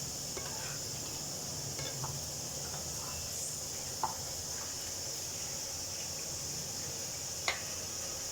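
Papad fries in hot oil in a home kitchen, a faint, steady sizzling hiss with a few light clicks and pops, close and quiet with no talk.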